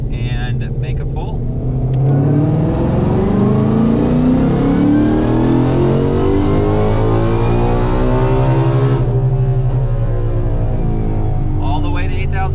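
A Ford GT500 engine on a dyno, revving from a low idle into a long rising pull that climbs steadily in pitch, loud and close, then cuts back sharply to a lower drone.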